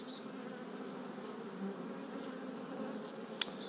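Honeybees buzz around a beekeeper at a mountain hut apiary, a continuous low droning hum with individual bees passing near, and a brief sharp click near the end.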